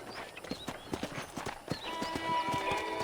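Horse hooves clip-clop at a quick, uneven rhythm in the video game Red Dead Redemption, close and clear over a soft outdoor background.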